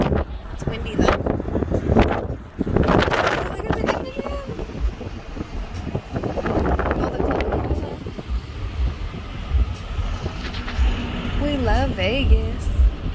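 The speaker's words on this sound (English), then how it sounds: "It's windy though." Wind buffets the microphone in low rumbling gusts in Las Vegas while people talk intermittently over it.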